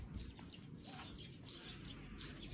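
Young rescued birds, six perched together on a hand, giving four loud, shrill chirps at a regular pace, each one short and piercing, with quiet between them and no talking.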